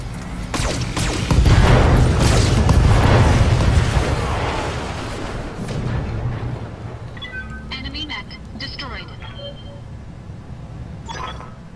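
Mech guns fire in the Battletech training mission, a loud booming burst followed by a fading rumble, then quieter scattered clicks and tones as the blasts die away.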